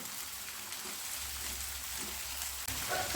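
Onion and ginger-garlic paste frying in a pan for aloo dum, a steady close sizzle and crackle running throughout with no talk, briefly dipping near the end before resuming.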